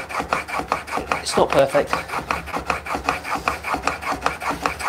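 A woodworking tool is sharpened by hand without a guide in a woodshop, making a loud, close, rhythmic rasping scrape in steady back-and-forth strokes, with a brief spoken remark over it.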